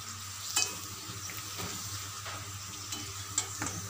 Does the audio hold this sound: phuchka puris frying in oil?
yes